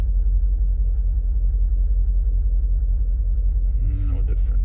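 A 2013 Mercedes G63 with the M278 5.5-litre twin-turbo V8 idles roughly with a misfire, a close, steady low rumble that pulses unevenly, then a brief faint voice near the end.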